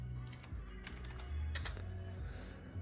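Someone types a short word on a computer keyboard, producing a quick run of close, soft key clicks over a low background hum.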